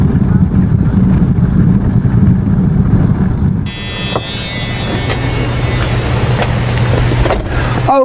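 Steady loud road and engine drone from inside a 1992 Dodge Dakota cruising at 75 mph, with a wind-and-tire roar that shifts partway through into a brighter, hissing rush, and no talk.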